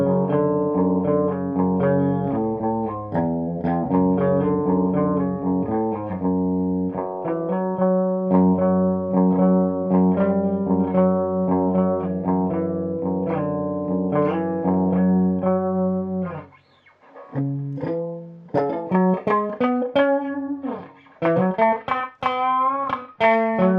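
An electric guitar plays through a Marshall 3203 amplifier, sustained chords and single-note lines ringing loudly, then broken into short phrases after a brief pause.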